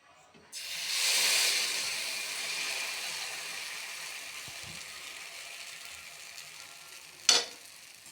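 Batter sizzles on a hot griddle in a steady, close frying hiss that swells early and then holds, with a brief clatter near the end and no talk.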